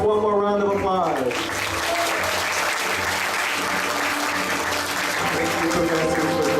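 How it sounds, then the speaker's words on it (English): Loud, steady applause fills a graduation ceremony hall, a large audience clapping continuously for the graduating class after a brief spoken lead-in. "Let's give our graduating class one more round of applause."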